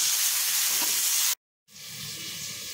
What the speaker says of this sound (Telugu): జీడిపప్పుని కొద్దిగా నూనె వేసుకుని విడిగా వేయించుకోవాలండి